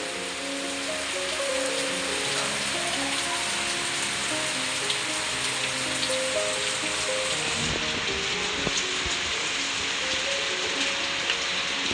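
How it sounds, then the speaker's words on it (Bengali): Heavy rain pours down steadily in a dense, continuous hiss, with a few scattered louder drips and knocks, no voices. "মুসলধারে বৃষ্টি নেমেছে"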